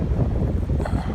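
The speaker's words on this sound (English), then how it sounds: "Yeah, it's a windy day today." Strong wind gusts through trees on a very windy day after overnight rain, a steady close roar with buffeting against the microphone throughout.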